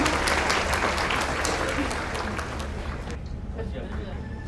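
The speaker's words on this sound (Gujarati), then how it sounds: "આપણે જોરદાર તાળીઓથી એમને વધાવી લઈએ." Loud, dense audience applause at an award ceremony honouring high-achieving students, many hands clapping steadily before thinning and fading toward the end.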